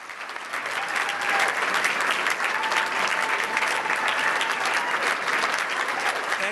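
Loud, sustained applause from a convention audience welcomes Michael Medved, a dense steady clapping that fills the whole stretch without pause.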